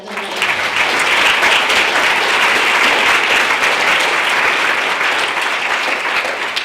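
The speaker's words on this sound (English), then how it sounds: "Can we just give a round of applause to all the students who facilitated the sessions today?" Loud, dense applause from a large audience at a student-led plenary session fills the space steadily from start to finish, with no break.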